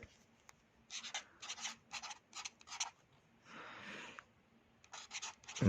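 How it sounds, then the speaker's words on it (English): Pen scratching across paper in a series of short bursts of strokes with brief pauses, with a soft rustle of the page midway. Close and fairly quiet, with no talking. "I'm going to write it down."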